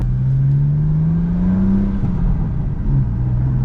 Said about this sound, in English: A little burble.